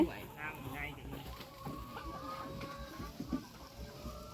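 Chickens cluck and murmur in a busy group, with people talking faintly in the background.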